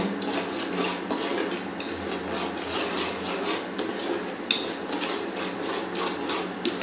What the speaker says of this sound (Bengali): এটা কিন্তু একটু নাড়তে হবে।